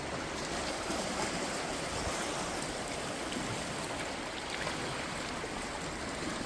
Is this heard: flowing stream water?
yes